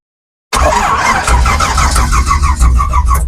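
A race car engine is cranked over by the starter without firing, to build oil pressure, producing a loud, close, rapid rhythmic churning that runs steadily after a sudden start.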